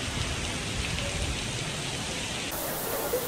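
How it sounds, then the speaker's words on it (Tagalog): Heavy outdoor rain near the Cloud Forest at Gardens by the Bay in Singapore pours as a dense, steady roar of hissing drops, continuous and close throughout. "Sobrang lakas ng ulan."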